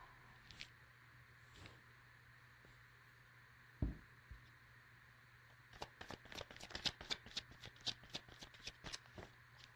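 Tarot cards being shuffled by hand: a lone slap near the start, then a rapid run of crisp riffling flicks through the second half, fairly quiet, with no talking.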